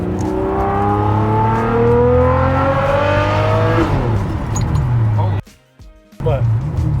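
A Ferrari 599 engine revs hard from inside the car, its tone climbing repeatedly in loud, rising sweeps. It then drops and falls briefly silent before the rumble returns.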